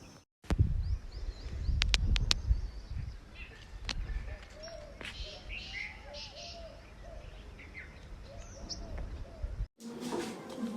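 Pigeons, including a newly paired couple, coo softly in a loft with low rumbling calls, alongside scattered chirps, a few sharp clicks and knocks, and background rustle and wind, recorded close with no talking.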